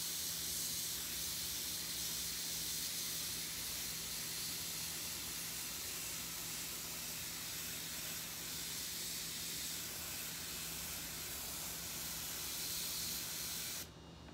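Close, continuous hiss of an airbrush spraying paint onto an eagle-design shirt, holding steady for many seconds before cutting off abruptly at the end.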